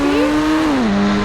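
A sports car in a video game drifting: a loud, steady engine drone with a pitch that rises briefly then slides down, sustained and close throughout with no talk.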